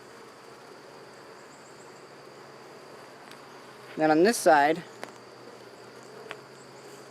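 Honey bees in a beehive make a constant low hum throughout, with a short burst of a man's speech partway through.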